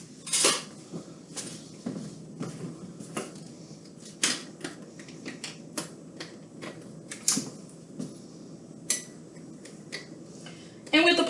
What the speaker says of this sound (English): Let me grab a tablespoon.